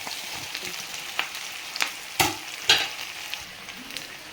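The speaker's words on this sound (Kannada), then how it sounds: "ಆಲೂಗಡ್ಡೆ ಸ್ಮ್ಯಾಶ್ ಮಾಡಿದ್ದೀನಲ್ಲ ಅದನ್ನು ಹಾಕ್ಕೊಳ್ತಾ ಇದ್ದೀನಿ" Mashed potato is added to a sizzling frying pan with turmeric for a potato palya and stirred in. A spoon scrapes the pan in a few distinct strokes over a soft, continuous sizzle.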